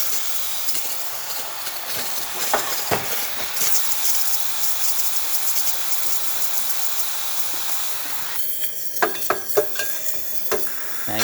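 Loud continuous hissing steam roaring steadily from a Gaggia espresso machine steam wand, with a shift in tone and a few faint clicks and knocks near the end.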